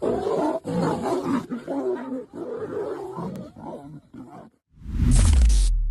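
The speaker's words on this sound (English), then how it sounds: "the mighty lioness does not let him run without clawing his face off" A lioness attacks a lion in the wild, a string of loud, rough snarls and growls broken by short gaps, ending in one powerful, full roar up close.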